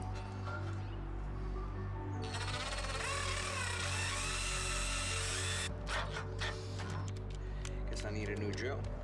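Cordless drill struggling to bore through thick sheet metal while converting a Jaguar XJ6 to a vacuum brake booster: a whining, labouring motor with a wavering pitch runs for a few seconds, then stops and gives way to scraping and clattering handling noises.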